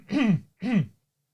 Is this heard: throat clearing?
yes